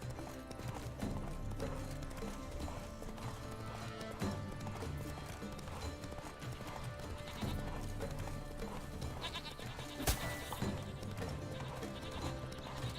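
Horse galloping in The Witcher video game, a continuous rhythmic clip-clop of hooves at a steady fast pace with some low rumble, moderately loud throughout.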